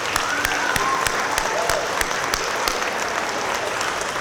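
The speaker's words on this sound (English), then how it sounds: "Let's put a big round of applause for Mrs." An audience at a third grade orchestra concert applauds, a dense and steady patter of many hands with a few sharper claps near the front, continuing evenly throughout.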